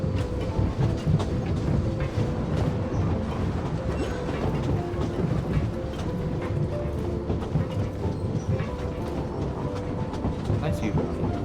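Train in the video game Genshin Impact, a steady rumbling rail clatter with rhythmic clicks that carries on loudly throughout, with talk over it.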